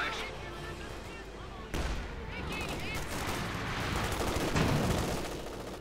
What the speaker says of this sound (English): Pack howitzer firing in support here.